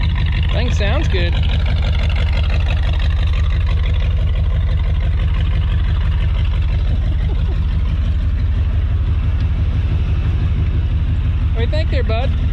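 A Ford F-350 shorty truck, cut in half and rebuilt, running with a steady low engine rumble throughout, close and loud, while people talk over it.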